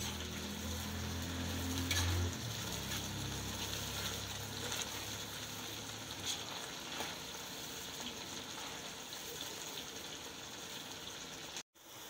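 Onion and garlic frying in hot oil on a mud stove for a Kashmiri chicken tehri, a steady soft sizzle lasting throughout with a low rumble early on, no talk.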